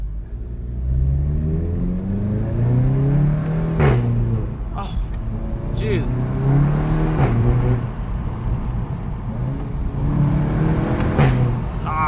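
A 2016 VW Golf GTI Clubsport engine pulls hard at full throttle from inside the cabin with the window down, a rising, throbbing drone that climbs in pitch, drops at gear changes and climbs again, with a voice exclaiming briefly over it.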